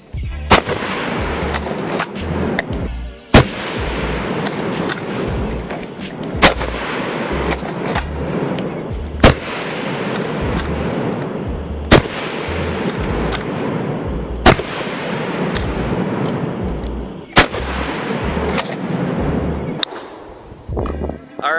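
A rifle fires a 15-round magazine dump outdoors, with loud, sharp reports spaced a second or two apart and long echoing decays between them, close to the listener. No one speaks.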